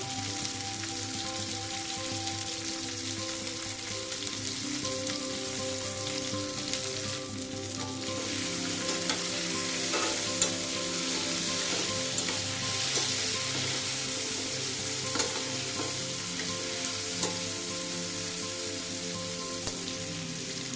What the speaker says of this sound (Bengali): বাদামটাও দিয়ে দেবো, এই সময় বাদামটাও হালকা ভেজে নিতে হবে।